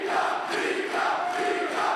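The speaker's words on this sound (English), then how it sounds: "And the crowd, that is crazy." Arena crowd roaring and cheering at the Smite World Championship 2024 esports semi-finals, a loud, steady wash of voices that holds throughout.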